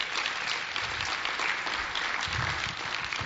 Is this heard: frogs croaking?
no